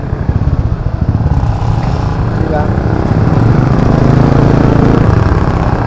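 Tricycle engine running during a ride, a loud close, steady putter with a fast pulsing rhythm that smooths into a continuous drone, with a brief voice heard over it.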